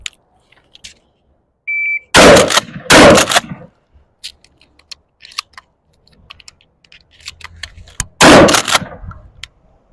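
A Remington 870 pump shotgun and a Beretta 1301 semi-automatic shotgun fire in a timed drill: a short electronic beep, then two loud blasts about a second apart, a quieter gap with faint clatter, and one more sharp blast.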